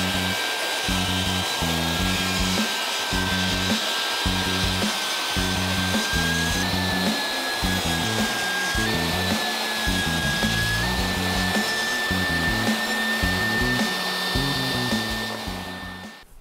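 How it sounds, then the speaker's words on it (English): Power sander smoothing dried CA glue off wooden stock for a towel holder, a loud continuous whine with a steady high tone running unbroken for the whole stretch before trailing off at the end. "I'm going to go ahead and sand off that CA glue to make it flat"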